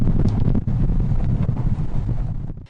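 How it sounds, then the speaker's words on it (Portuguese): Strong wind roars across the Santos seafront in Brazil, buffeting loudly and steadily with rough gusts before easing off near the end. "Na orla de Santos, por volta das 10h30 da manhã, o cenário era esse, de muito vento."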